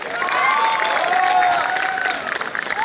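Brief applause and cheering from wedding guests at a sangeet celebration, clapping under excited voices and whoops.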